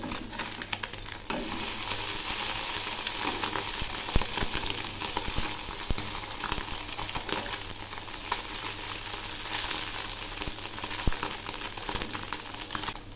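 Fish turned in a frying pan keep up an even, close sizzle, with repeated scraping and tapping from a spatula against the pan and no talking.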